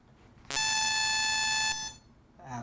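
A computer beep from a PC running Windows Longhorn: one loud, steady electronic tone with a harmonic-rich buzz, held for about a second and a quarter before cutting off, then quiet.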